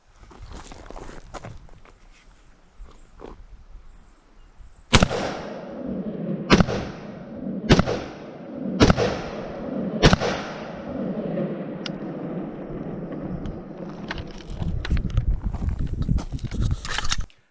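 Five 5.56 rounds fired from an AR15 rifle strike an armored aluminum boat hull outdoors, sounding as sharp, loud, evenly spaced cracks, each followed by a brief ringing decay, amid shuffling and movement noise.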